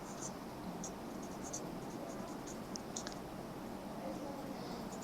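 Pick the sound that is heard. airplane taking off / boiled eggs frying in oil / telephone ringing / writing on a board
writing on a board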